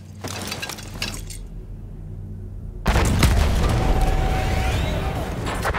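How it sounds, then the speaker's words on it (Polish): A car blows up in a Battlefield 1 village mission: after a stretch of quieter background, a sudden loud blast hits with breaking, shattering glass, then a dense, lingering roar of debris and fire, with no talk. "Eksplozja, kurwa, i wszystko rozjebane."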